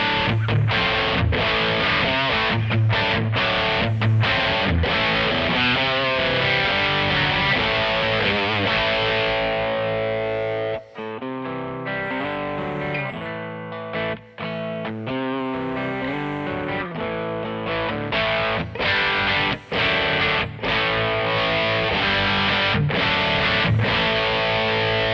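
Electric guitar played through a Kemper modded plexi profile in JCM mode with Plus distortion, a loud, continuous, gain-heavy riff with sustained chords and brief gaps, no voices.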